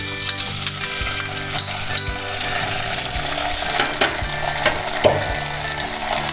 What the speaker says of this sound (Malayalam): ഇനി നമുക്കിതിലേക്ക് എടുത്തു വച്ചിരിക്കുന്ന സോസൊക്കെ ഒഴിച്ചു കൊടുക്കാം.